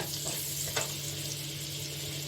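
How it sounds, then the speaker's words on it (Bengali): Cumin seeds tempering in hot ghee or butter for a Bengali paneer curry, a steady close sizzle and fry with a brief brighter crackle near the start. "এখন এখানে আমি ফোড়নে দিয়ে দিচ্ছি এই যে জিরা দিয়ে দিলাম"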